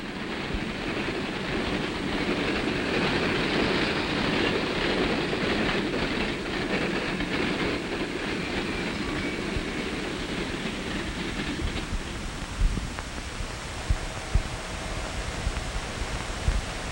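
Trains roll along railroad tracks with a steady, loud rumble and rattling wheel noise that fills the whole stretch, easing toward the end where a few sharp clicks and clanks stand out.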